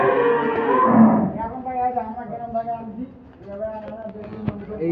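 Cattle freshly brought in from a village are led into a dairy farm, giving a loud, close, drawn-out moo followed by lower lowing, while someone talks over them.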